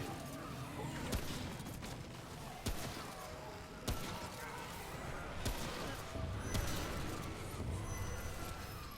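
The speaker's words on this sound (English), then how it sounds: "Stop dodging my bullets. Let me shoot you." Repeated gunfire in the video game Remnant, sharp shots cracking out at irregular intervals over a dense, continuous layer of game noise and combat effects, with a few louder blasts standing out.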